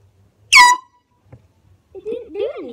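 A very loud handheld air horn gives one short, piercing blast up close, followed by a quiet pause and then people talking.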